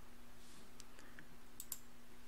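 A few soft, sparse clicks of keys being pressed over a low steady hum in a quiet room.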